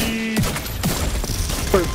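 Gunfire in the Dark Zone of an online shooter game, a few separate loud cracks and bursts with clicking weapon mechanisms between them, dense and close over a busy background.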